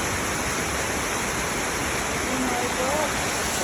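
Heavy rain falls in a constant, thick hissing roar, near and loud, with a faint voice briefly surfacing under the downpour.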